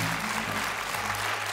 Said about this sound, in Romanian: Bine, aplauze și succes!